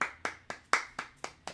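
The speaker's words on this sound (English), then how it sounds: "Applauding for herself. I'll cheer for myself." One person applauds herself during a tabletop card game session, with six or seven steady, evenly spaced hand claps heard close and fairly loud.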